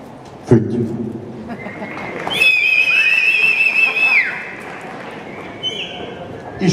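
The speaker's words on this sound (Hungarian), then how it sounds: "Fütty." A shrill, sustained whistle at an award ceremony rises over a noisy crowd, with a sharp sound before it and lingering audience murmur afterward.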